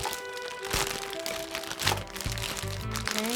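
A Ziploc-style plastic package holding an EMF-filtering warming pad is pulled open, giving crinkling and crackling rustles with a few sharp snaps, close and fairly loud, with no talk.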